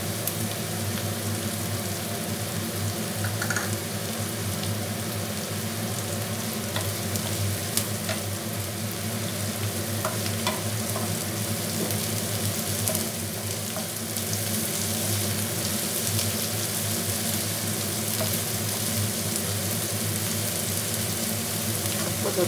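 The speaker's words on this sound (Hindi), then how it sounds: "तो 2-3 मिनट फ्राई होने देते हैं।" Chopped capsicum frying in butter in a pan, giving a steady, dense sizzle that holds even and close throughout, with faint clinks now and then and no voices.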